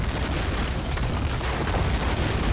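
Buildings in a captured city are torn down in Rome Total War, a dense, steady crashing roar of booming rubble that stays loud and unbroken throughout.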